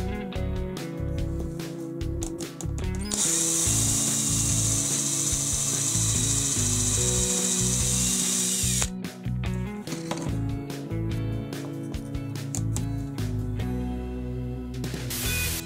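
A power drill grinds and whirs into wood, with a long continuous high-pitched stretch in the middle and clattering, ratcheting bursts before and after.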